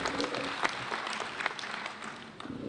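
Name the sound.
applause for members of parliament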